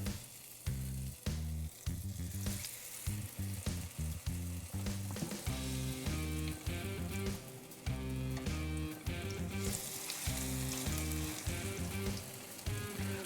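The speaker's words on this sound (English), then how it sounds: "Let's get our fish into the frying pan." Steady sizzling and crackling of trout frying in a hot pan, with rhythmic thumping music running underneath throughout.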